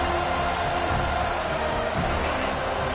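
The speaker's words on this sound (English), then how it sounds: "This crowd, full throat, splitting the eardrums and letting them know it's going to be a long day." A packed stadium crowd roars steadily at a Clemson vs FSU college football game, a dense, loud, unbroken wall of cheering with no lull.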